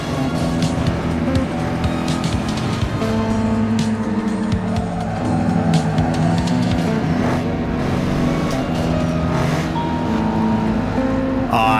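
A racing car in Need for Speed Underground 2 roars through upshifts, engine pitch climbing and dropping with each gear change over continuous loud game audio and music.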